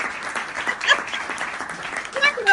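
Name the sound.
audience applause for someone's mama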